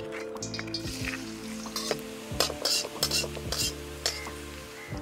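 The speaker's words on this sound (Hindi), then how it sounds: "सबसे पहले इसके अंदर डालेंगे लहसुन।" Garlic sizzles in hot cooking oil, with a spoon scraping and clinking against the pan as it is stirred, close by, with no talk.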